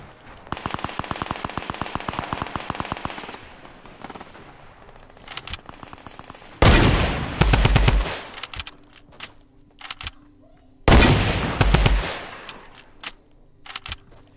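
Very rapid automatic fire from a video game gun in a Fortnite-style building shooter, a long rattling stream followed by two loud, heavy bursts and scattered single shots, with no voices.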